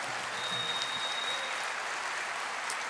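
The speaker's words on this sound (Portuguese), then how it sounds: "Aplauda mais." Steady applause from a church congregation during a Portuguese-language sermon, a dense continuous patter of many hands, fairly soft and even throughout, with no voices over it.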